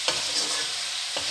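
Spices with cumin powder sautéing in a pan for a tilapia, cauliflower and potato curry, a constant close sizzle with two brief stirring scrapes at the start and end.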